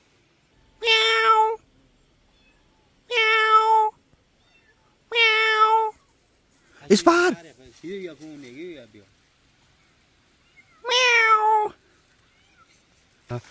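A voice imitates a cat's meow four times at slow, even intervals, with a brief stretch of speech partway through, all close and clear.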